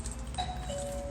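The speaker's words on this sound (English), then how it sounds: "There's a doorbell." An apartment doorbell by a front door sounds a two-tone chime, a higher note followed by a lower, sustained one, moderately loud over a steady low hum.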